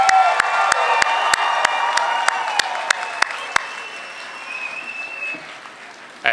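Loud, sustained applause from a commencement audience for a 2016 university graduating class, dense clapping with scattered sharp claps and a few cheers, fading gradually toward the end.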